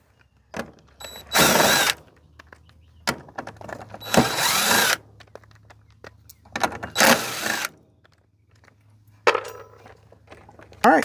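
A power drill backs screws out of an AC inverter board, with several short, separate bursts of whirring between pauses; faint background noise and no talking.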